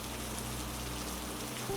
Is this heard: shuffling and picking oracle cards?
no